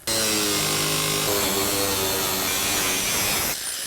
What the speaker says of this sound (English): let's just cut straight through across the bumper